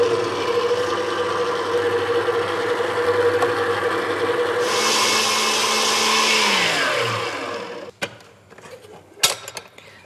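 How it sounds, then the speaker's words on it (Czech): An electric mixer whips cream cheese, sugar and white chocolate into a smooth cheesecake cream with a steady close whir, then winds down and stops, followed by a few light clinks of bowl and utensils. "já teďka přidám bílou čokoládu a vyšlehám hezky hladký krém"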